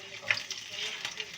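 White onion dropped into hot oil gives a faint, soft frying sizzle with a few small crackles, heard near and quiet, while chicken liver is being cooked Turkish style.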